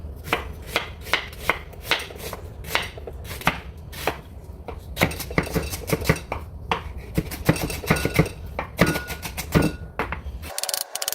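An onion being sliced with a knife on a cutting board, a run of sharp, regular chopping taps close by that speeds into a dense flurry of cuts, with no talking.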